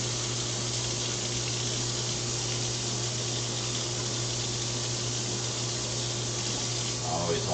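Kitchen tap running steadily while pork chops are rinsed under it, a continuous even hiss of flowing water with a low hum underneath, lasting throughout with slight splashing near the end.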